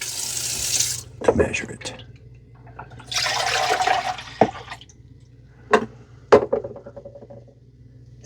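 Dirty water is poured out of a Dreame Aqua10 robot mop's water tank into a sink, splashing in several bursts of pouring and trickling. A person speaks briefly between them.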